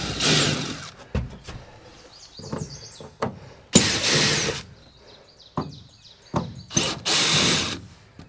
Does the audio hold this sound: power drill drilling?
yes